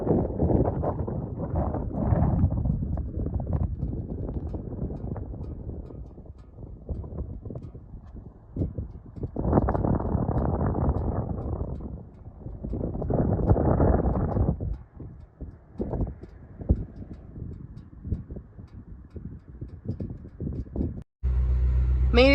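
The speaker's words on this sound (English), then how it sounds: "it is pretty windy here right now" Strong wind buffets the microphone in loud, roaring gusts that rise and fall, rumbling low with brief calmer moments between.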